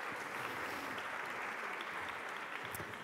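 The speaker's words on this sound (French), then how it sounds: "Merci de les applaudir pour les encourager à me rejoindre." Quiet, continuous clapping from a conference audience welcoming panel speakers to the stage at a session on healthcare quality and efficiency, a soft, even patter heard from a distance with no talking over it.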